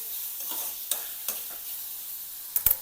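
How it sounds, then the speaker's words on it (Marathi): Ginger and garlic paste sautéed dry in a pan without oil gives a soft, hissing sizzle, with a few light spatula scrapes spaced through and two sharper clinks at the very end; no talking. "अद्रकची पेस्ट, लसणाची पेस्ट परतून घ्यायचं।"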